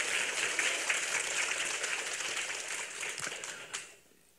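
Congregation applauding during a church worship service, a dense steady wash of many hands clapping that fades out near the end, somewhat distant and even.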